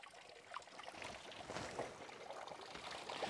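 Clear water trickles over moss at the bottom of a ravine, a soft, steady babbling flow heard close and fairly quiet, with no one speaking.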